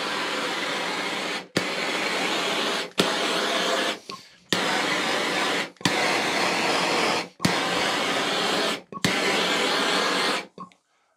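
A MAP gas torch blasts heat near carpet fibres, giving a loud, steady roaring hiss in about six long bursts separated by brief silent breaks.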